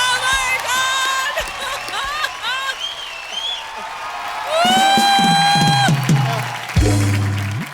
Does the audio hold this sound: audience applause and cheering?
yes